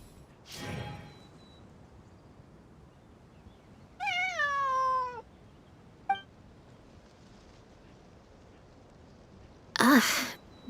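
Bonnie the cat in Genshin Impact lets out a single clear, drawn-out meow partway through, framed by a few brief soft thumps and clicks against faint background ambience.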